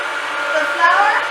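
An electric mixer whirs steadily, beating eggs for peanut cookies, its motor drone close and loud throughout with no pauses.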